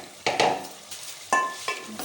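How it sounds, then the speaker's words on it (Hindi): Potatoes being stirred in a pan for an aloo masala gravy, with several short scraping, clattering strokes of a spoon against the pan over a faint background sizzle. "इसको हम थोड़ा सा मिक्स कर लेंगे ताकि नीचे से चिपके ना"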